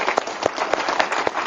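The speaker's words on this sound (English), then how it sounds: "Round of applause for my man John Hinkson." Brief burst of clapping from a small gathering, a handful of distinct claps in quick succession, fairly close and moderately loud.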